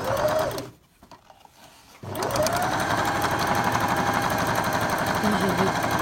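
A sewing machine stitches the seam of a drawstring bag, running in a loud, steady burst, pausing briefly, then resuming with a continuous whirring drone to the end.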